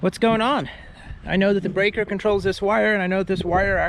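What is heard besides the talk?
No everyday noise stands out behind the speech.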